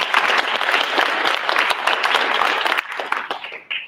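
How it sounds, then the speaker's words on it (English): An audience at an awards ceremony applauds the tenth year of a program: full, steady clapping from many hands for about three seconds, then tapering off into scattered claps. "let's give a big round of applause for doing 10th year"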